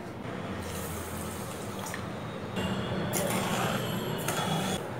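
Water is poured into a pan of sugar to make syrup for chhanar jilapi, a Bengali sweet. It makes a steady, soft trickling splash throughout that grows a little fuller midway.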